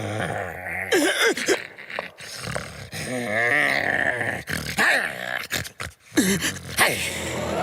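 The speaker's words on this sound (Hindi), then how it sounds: "अरे बंद करो ये गुर्राना।" A cartoon dog in a Hindi animated kids' movie growls in rough, rumbling bursts mixed with groans, close and loud, alternating with brief gaps and other character sounds.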